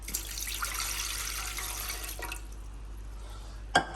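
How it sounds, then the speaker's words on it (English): Water is poured into a bowl for sourdough bread dough, a steady splashing stream for about two seconds that then fades, ending in a sharp clink, with no talk. "we pour 300 milliliter, 300 gram of water"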